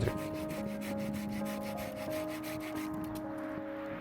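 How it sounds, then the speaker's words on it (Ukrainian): A folding Japanese pruning saw (ARS G-18HL) with a narrow, hardened-tooth blade rasps through a tree branch in a steady series of rhythmic back-and-forth strokes, close and fairly loud, with no talking. "Зараз ви можете бачити, як ця пила обрізає гілку."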